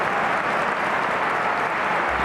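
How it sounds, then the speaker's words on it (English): Stadium crowd at a Barcelona versus Getafe La Liga match applauding Alexis Sanchez, a dense, loud, unbroken roar of clapping and crowd noise filling the whole stadium. "appreciative applause for Alexis Sanchez"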